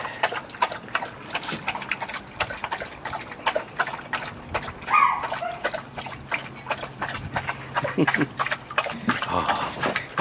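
Wet lapping and splashing as a dog stands in its water bowl and drinks, a quick run of small slurps and sloshes up close, with a person talking softly over it.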